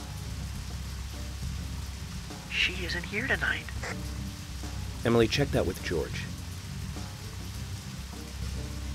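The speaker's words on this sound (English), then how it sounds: "Oh dear, it started raining again." Steady rain falls across a night scene in the horror game Deadly Premonition, a constant soft hiss that stays even throughout while characters talk over it.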